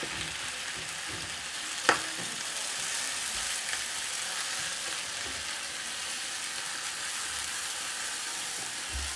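Minced mutton keema fries in hot oil with a loud, steady sizzle, and one sharp clink comes early on as it is stirred in the pan.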